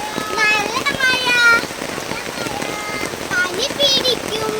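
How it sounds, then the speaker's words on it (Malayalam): Heavy rain pours down in a constant broadband hiss with scattered sharp drops, while voices are heard over the downpour. "നല്ല മഴ"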